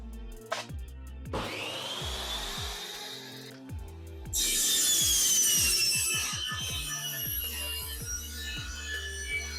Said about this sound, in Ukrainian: Тепер ріжу фанеру.